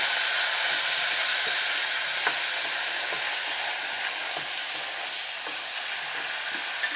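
Water added to a hot pan of butternut squash curry with saffron: a steady broadband sizzle that fades slightly over time, with faint stirring clicks, close and alone.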